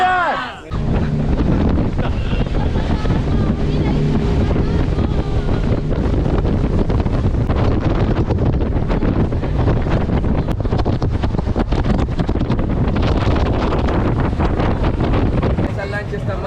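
Motorboat engine droning steadily with heavy wind buffeting the microphone on open sea near the Rosario Islands and Barú, loud and continuous throughout.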